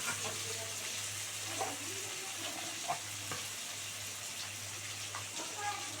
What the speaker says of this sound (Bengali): দেখো কুমড়ো, আলু, পেঁয়াজ ভালো করে ভাজা হয়ে গেল